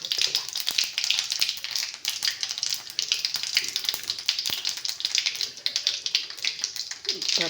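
Mustard seeds, urad dal and cumin sizzle and pop in hot oil, a dense crackling spatter with sharp, irregular popping throughout, close and steady.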